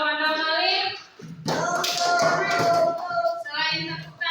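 Children in a classroom clap their hands, a dense burst of claps in the middle between stretches of young voices chanting or speaking.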